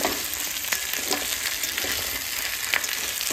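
Soy sauce, chili sauce and tomato ketchup sizzle in a hot frying pan while being stirred, giving a continuous close crackle with soft, irregular scraping strokes.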